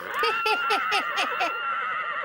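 A voice imitates a horse neighing, a rapid series of about six rising-and-falling whinny bursts, close and loud, with no other talk.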